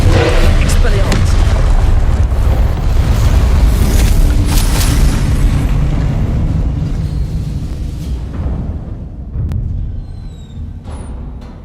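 Spell explosion from the Confringo curse in the game Hogwarts Legacy: a loud, sustained booming blast with rumbling debris and crackle that gradually fades over several seconds, followed by faint chimes.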